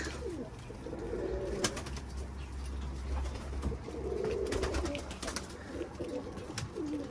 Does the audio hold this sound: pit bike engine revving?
no